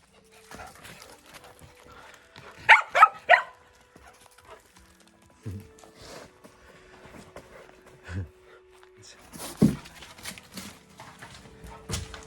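Dogs at feeding time inside a bus home, a few sharp yips and short barks in a quick cluster, then scattered clinks, shuffles and faint murmurs in an otherwise quiet room.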